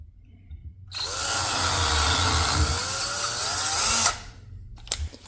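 Power drill with a 9/64 bit bores into a brass plug on a John Deere DLTX carburetor, a loud close whine rising and held for about three seconds before cutting off, followed by brief clicks.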